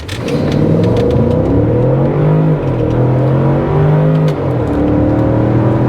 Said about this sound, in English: I do like the sound of the engine